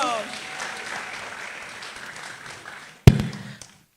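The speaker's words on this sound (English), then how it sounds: "Can you give yourselves a round of applause?" Steady applause from an audience at a career development event fills the room, fading gradually before a sharp thump near the end, followed by brief quieter clapping that dies away.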